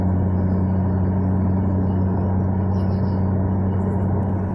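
Steady, continuous engine drone inside the cabin of a 2020 BMW M2 Competition with M Performance exhaust on a night drive, low even rumble around 2,200 RPM at moderate speed, no talking.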